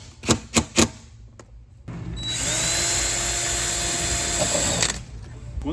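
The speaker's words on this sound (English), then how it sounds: "So this is gonna be a drill and then screw in and then move to the next hole." Power drill boring holes and driving screws to fit front sponsons onto a Fattie boat: three short bursts, a pause, then a long steady whirring run of several seconds, close by, with no talk.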